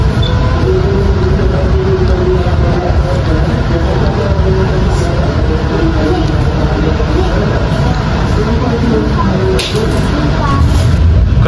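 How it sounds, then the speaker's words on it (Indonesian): Cakrabuana passenger train rolling into a station in West Java, Indonesia, a steady loud rumble of wheels and carriage noise, with faint talk in the background. "Kereta api Cakrabuana masuk di jalur 4 stasiun Pegadaian Baru"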